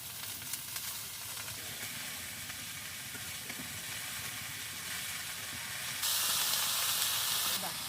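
Cabbage frying in a pan with panch phoron, bay leaf and ginger, giving a steady close sizzle and hiss that swells louder near the end, with a voice speaking over it.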